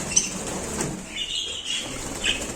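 Pet budgerigars flutter their wings in brief bursts of soft flapping nearby, with faint chirps among the rustling.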